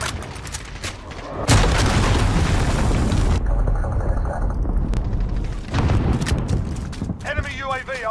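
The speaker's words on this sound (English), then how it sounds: "Missile incoming" A missile strikes during a Call of Duty Modern Warfare team deathmatch: a loud, rumbling blast hits suddenly and rolls on for seconds over continuous battle noise, with game voices heard through it.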